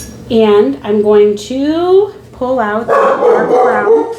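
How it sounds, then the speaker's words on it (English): Dogs bark and yip in the background, a series of sharp, pitched barks in quick bursts, fairly loud, while someone talks over them indoors. "sorry for the dogs in the background"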